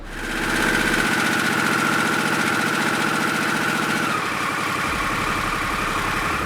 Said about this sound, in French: tirant d'un coup sec le levier d'embrayage, d'abaisser considérablement le régime moteur à 1000 tours minute environ